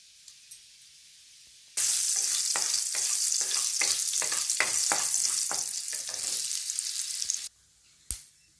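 Mustard seeds and urad dal thrown into hot oil in a pan, bursting into a loud sudden sizzle with dense crackling pops that fade after several seconds, then a brief sharp clatter.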